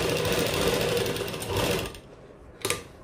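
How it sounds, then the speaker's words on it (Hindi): A sewing machine runs steadily stitching cotton kurta fabric, a loud continuous whirring that stops after about two seconds, followed by a brief clunk. "अब यहाँ पे आपने इस कपड़े को बिल्कुल अच्छी तरह सेट करके सिलाई लगानी है।"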